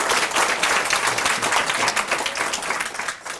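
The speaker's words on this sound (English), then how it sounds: "give him a big round of applause" Dense, continuous applause from an audience at a heritage council awards ceremony, loud and steady throughout with many hands blending into a wash, tapering slightly at the end.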